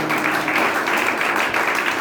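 A church congregation applauding to acclaim Jesus, with dense, steady clapping that fills the space at moderate loudness and no clear voices on top.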